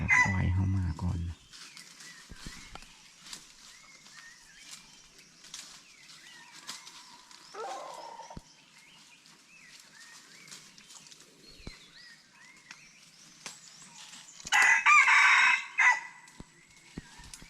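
Chickens and a rooster on a rural Thai or Lao farm; a rooster crows loudly at the start, with scattered clucks and calls through the middle and a louder burst of crowing near the end, alongside occasional talk.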